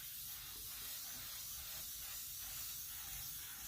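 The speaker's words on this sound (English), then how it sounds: "you could also use any shine spray real quick" A spray can hisses steadily in a soft, continuous burst of airy spray, close by and fairly quiet, with no voices.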